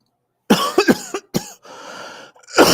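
A person coughing in several short, harsh bursts close to the microphone, followed by a throaty clearing sound and another cough at the end.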